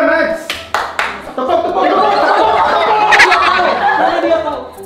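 Hands clapping in a lively Indonesian TV game segment, a few sharp separate claps at first, then a busier spell under excited talk, chatter and chuckling.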